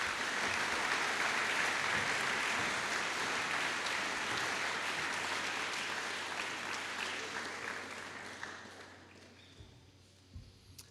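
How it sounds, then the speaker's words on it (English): An audience at a trainee graduation ceremony applauds the Chief Officer and the High Sheriff of Hampshire, a broad, sustained burst of many hands that gradually thins and fades away toward the end, with a few stray thumps. "please continue your applause for our Chief Officer and the High Sheriff of Hampshire"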